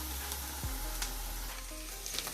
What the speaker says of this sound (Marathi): कांदा फ्राय करायला वेळ लागणार आहे.